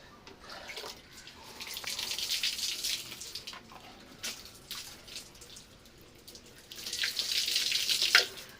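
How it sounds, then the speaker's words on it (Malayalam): A watermelon being washed under a running kitchen tap, with water splashing and trickling in uneven bursts, louder near the start and again toward the end, close by with no talking. "നല്ല രീതിയിൽ കഴുകി എടുക്കുക"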